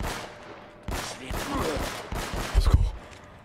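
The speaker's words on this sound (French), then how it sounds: "Ah, parce qu'il y a un tir de rayon laser." Gunfire in Uncharted: Drake's Fortune arrives as repeated sharp bursts that build to a heavier thump near the end, mixed with the game's sound effects and voices talking over it.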